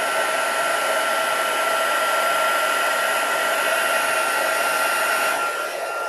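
A heat tool blows hot air steadily for about six seconds, used on gold embossing in papercraft, a loud continuous whoosh with a fan whine, easing slightly at the end, no voices.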